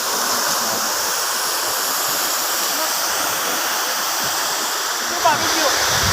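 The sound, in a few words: water flowing down from a waterfall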